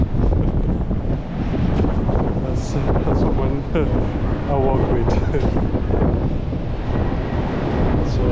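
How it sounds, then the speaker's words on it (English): Strong wind on the Blackpool seafront promenade buffets the microphone in loud, continuous gusts, with brief talk heard over the roaring blasts. "So yeah, it's really windy"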